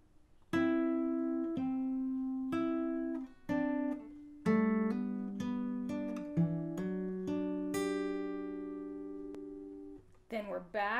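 An acoustic guitar picks a song's riff, single clear plucked notes with hammer-ons and ringing open strings in a slow, steady sequence, played alone up close, ending with a quick strum.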